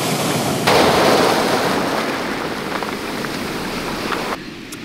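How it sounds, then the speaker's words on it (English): Surf washes steadily onto a beach on a Jurassic fossil and agate coast: a loud, continuous roar of breaking water that swells just after the start and drops off near the end, with no voices. "you probably can't hear me over the waves"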